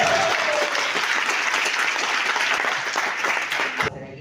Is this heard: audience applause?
yes